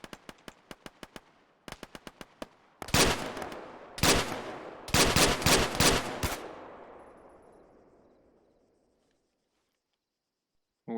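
Bursts of automatic gunfire in a military video game: scattered single shots early, then several loud, dense volleys that ring out and fade into a long decaying tail before near silence.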